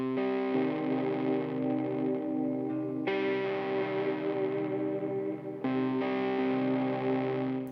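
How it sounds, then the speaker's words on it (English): Sustained, heavily distorted electric guitar chords through a Valco KGB fuzz pedal, with a fuzzy, buzzing tone, changing twice, loud and prominent without any voices. "what's really special about fuzz, just across the board, but on guitar in particular"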